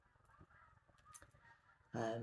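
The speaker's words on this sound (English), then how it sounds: "Can you hear those geese?" Geese honking as they fly over toward a big old mill pond, a few faint distant calls followed by a loud, close burst of honking at the end.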